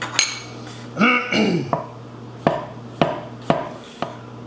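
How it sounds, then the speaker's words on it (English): Knife mincing garlic on a cutting board while cooking Caribbean beef short ribs, a series of sharp separate chops at an uneven pace, close and crisp, with a few softer scraping sounds in between and a low steady hum behind. "Now with the garlic, mince it a little bit."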